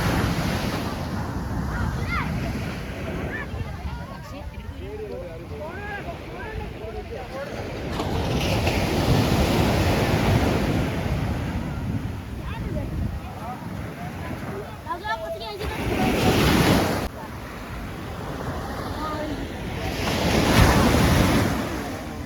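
Ocean surf rolls in with broad washes of noise, swelling louder twice, while wind buffets the microphone and voices talk faintly in the background.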